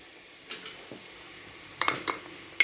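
Onions dropped into hot oil in a pan begin to fry, a quiet steady sizzle broken by a few soft clinks and scrapes of a utensil against the pan, with no voices.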